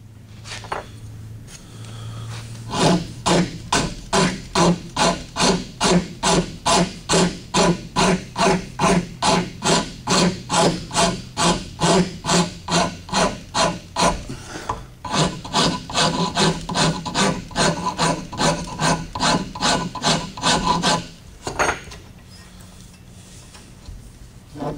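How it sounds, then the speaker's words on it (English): A rasp files steadily across a wooden axe handle clamped in a vise, with long runs of rapid, even rasping strokes and a brief pause midway, close and loud with no talk. "I'll chuck this up in the vise and take that rasp and get some of that material off of there"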